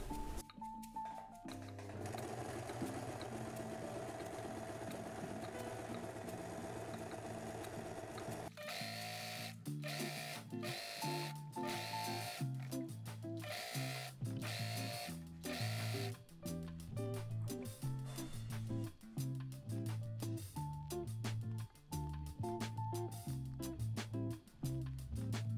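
A sewing machine stitches close along the edge of a fabric hem, its steady motor whir running in continuous bursts with brief pauses, close and fairly loud throughout with no talking.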